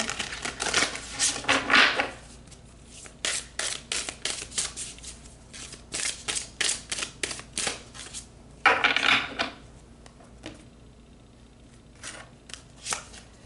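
Tarot cards are shuffled and pulled by hand in crisp, rapid riffling bursts of dry paper flicks and taps, nearby and fairly quiet, with short pauses between bursts.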